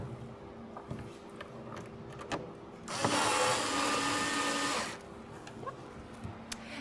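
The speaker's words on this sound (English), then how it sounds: "It is easiest to screw on one on each side to begin with." A power screwdriver whirs in one steady two-second burst, driving 30mm M6 screws with washers to fix an apex during assembly, with quiet handling clicks before and after.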